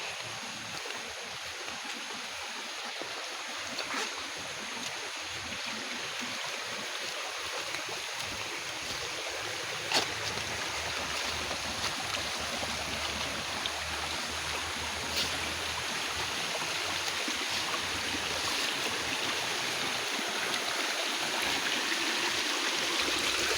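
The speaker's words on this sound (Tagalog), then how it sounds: "Tabok tag sapa guys. Wala guys, oh, sapa ng gamay guys." A small stream flows and trickles steadily during a crossing on a farm, making a continuous soft rushing sound with a few faint knocks. No speech is heard.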